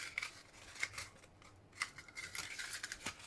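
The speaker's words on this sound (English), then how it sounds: "you can take your scissors, you can cut the edges off" Scissors snipping through paper, several crisp cuts spaced irregularly, fairly close and quiet, with no talking.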